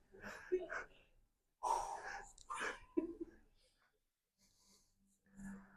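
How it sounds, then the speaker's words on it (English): Heavy, effortful breathing from a person doing shoulder mobility exercises, close and fairly loud, coming in several bursts of breathy exhales with pauses of near silence between them. "If they can hear me breathing at home"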